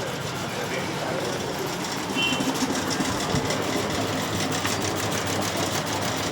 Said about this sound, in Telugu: సో ఇప్పుడు మిషన్ మీద వర్క్ రండి చూద్దాం.